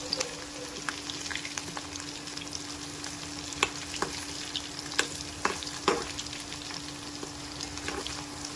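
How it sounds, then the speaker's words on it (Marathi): Paneer pieces fry in hot oil, a close, continuous crackling sizzle with scattered sharp pops and stirring clicks over a faint steady hum. "हे सगळे पनीर एकदा तळून घेते"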